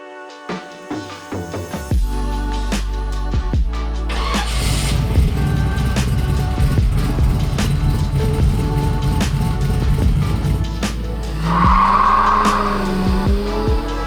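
A classic car fitted with quiet mufflers cranks, catches and settles into a loud, steady engine drone that builds as it pulls away, with a brief high whine near the end and no speech.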